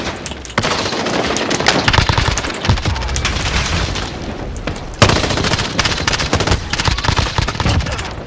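Hip-fired automatic weapon bursts in Warzone, loud and nearly continuous, with a heavier boom-like impact near five seconds as the firing resumes in rapid volleys.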